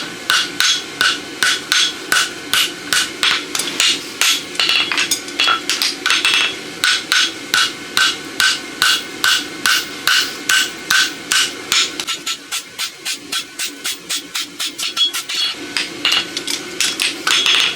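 A hammer strikes a small 1/2-by-3/4-inch steel roadster horseshoe to tighten its toe bend, ringing metallic blows in a fast, steady rhythm that pauses only briefly, close and loud, with no talking.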